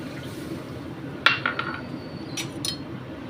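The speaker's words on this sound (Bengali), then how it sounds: "এবার দিয়ে দিচ্ছি এক কাপ দুধ" A cup of milk is poured into a simmering rohu fish curry made with ghee. A brief liquid splash follows a clink of the cup, with a few light kitchen knocks after, over a low steady background hum.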